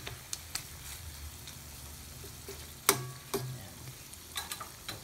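Pork adobo frying in its own rendered oil, a faint steady sizzle with scattered soft pops and a few louder clinks of a utensil against the pan.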